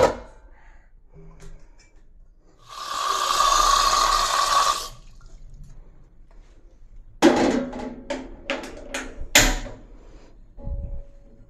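Tap water runs in a steady broadband rush for about two seconds while a pot is filled to boil water for cooking vegetables, then a few sharp pot and lid clanks follow in a quiet home kitchen.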